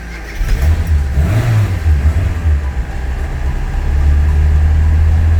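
A classic Mini's engine cranks and catches after a jump start, then settles into a loud, low rumbling idle with a brief rev, close by and continuous.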